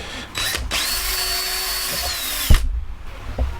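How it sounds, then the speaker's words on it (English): A power drill pre-drilling holes in wood whirs at a steady high pitch for about two seconds, then winds down, followed by a couple of clunks. "now we're going to pre-drill these 3 holes"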